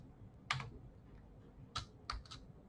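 A computer keyboard being typed on while writing HTML and CSS code, heard as a few sparse, crisp keystroke clicks spread out over a quiet background with no talking.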